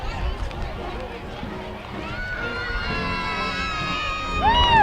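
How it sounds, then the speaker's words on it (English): Children scream and yell along a parade route as candy is thrown, their shrill voices rising over a busy crowd murmur and nearby chatter, growing louder toward the end. "The kids are screaming and yelling."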